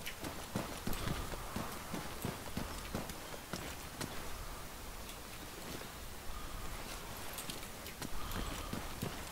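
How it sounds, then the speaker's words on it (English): Player footsteps in the survival game DayZ Breaking Point, a run of quick, rhythmic crunching steps that continues at low level under a dense, steady ambient wash. "Thought I heard footsteps."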